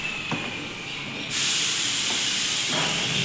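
A passenger train running on its rails, with steady broadband rumble and hiss that grows suddenly louder partway through and stays loud, with faint clanks under it; no one speaks.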